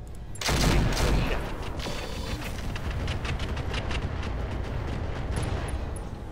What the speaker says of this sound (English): Let's fire 3 rounds.